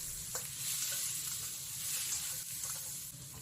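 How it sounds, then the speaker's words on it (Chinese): Pork ribs sizzle and crackle steadily as they are stir-fried in a pot after a spoonful of cooking wine goes in, with faint scraping stirs over a continuous hiss. "翻炒均匀"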